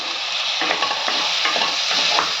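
A tomato sautéing in a pan with ginger-garlic paste for mutton kola urundai kuzhambu, a bright continuous sizzle with quick spoon stirring scrapes throughout, close and loud with no voices.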